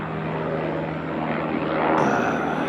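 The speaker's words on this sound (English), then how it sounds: "Sorry about the airplane. Or, sorry, helicopter, I mean." A helicopter's steady rotor drone fills the air, loud and constant, growing slightly louder as it passes overhead.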